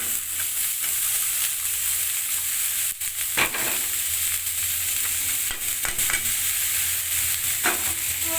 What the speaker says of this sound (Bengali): ভালো করে নাড়াচাড়া করে মিক্স করে নেব।